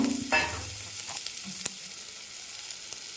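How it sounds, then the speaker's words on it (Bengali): Butter with panch phoron, chopped chili and ginger paste fries in a wok, giving a loud sizzle that flares at the start and then settles into a steady hiss with a few light stirring clicks. "কড়ার মধ্যে বাটার দিয়ে দিলাম এর মধ্যে আমি দিয়ে দিলাম পাঁচ ফোড়ন"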